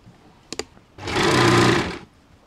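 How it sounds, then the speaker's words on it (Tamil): A sewing machine stitches a puff sleeve lining. Two quick clicks come first, then a single close, steady whirring run of stitching lasts about a second before stopping. "இந்த ரவுண்டு பகுதியை மட்டும் தைச்சி திருப்பணும்."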